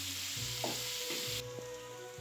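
Tomatoes tossed into a hot pan for butter chicken, a bright crackling sizzle with a few stirring scrapes and clicks, then the hiss drops and softens partway through, no talk.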